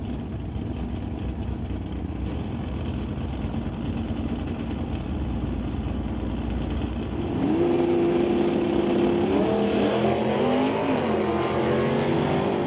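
Drag race cars roaring at a West Coast Outlaw Shootout strip, the Lordco Auto Parts Camaro among them, a steady loud engine drone that swells into a rising, wavering rev as a car launches.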